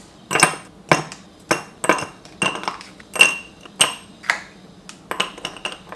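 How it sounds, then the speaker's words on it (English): Ice cubes dropped one by one into a glass for an iced butterscotch coffee, giving a steady series of sharp, close clinks and rattles at roughly half-second intervals, with no talking. "Now I'm just gonna fill it up with ice."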